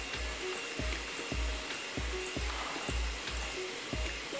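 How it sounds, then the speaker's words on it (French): An electric mixer whips egg whites at maximum speed toward soft peaks for giant candies and macarons. It gives a loud, continuous whirring drone with a regular pulsing beat, close up and with no voices. "Fouettez les blancs d'œufs à la vitesse maximale pour obtenir des pics mous."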